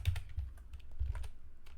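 Typing on a computer keyboard while writing Python code, rapid close key clicks in uneven bursts with brief pauses, no voices.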